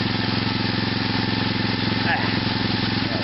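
A small nitro engine on an OFNA RC car fitted with a new carburetor runs at a steady, buzzing high-revving pitch, loud and close throughout without pause.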